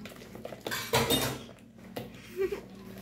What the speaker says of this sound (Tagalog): Mixing time.